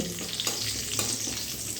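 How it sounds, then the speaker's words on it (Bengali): Cumin seeds and bay leaves crackle and sizzle in hot oil, a dense close hiss with light stirring scrapes and no talking. "এবারে তেলের সঙ্গে এই জিরা আর তেজপাতা একটু ভালো করে ভেজে নিতে হবে"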